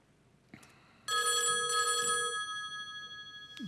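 A telephone rings during a WebRTC SIP call test, its electronic ringback tone starting after a brief click and holding steadily for over two seconds, fairly clear against a quiet room.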